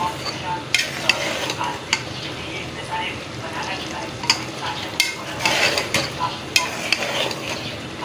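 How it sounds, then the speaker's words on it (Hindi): Okra and mutton stew being gently stirred in a pot, a spoon scraping and clinking against the metal in irregular strokes over a steady low simmering sizzle, close and moderately loud. "अब ये इसको मिक्स करना हल्का हल्का, ऐसे करें कि भिंडियाँ जो है ना टूटे ना"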